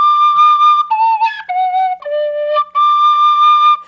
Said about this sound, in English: And I have a little penny whistle.